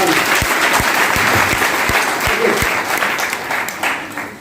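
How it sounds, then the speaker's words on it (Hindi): A seminar crowd in Ludhiana breaks into loud, energetic applause, dense clapping with a few heavy thumps near the front, tapering slightly toward the end. "एक बार जोरदार ताली बजा दीजिए सारे लोग।"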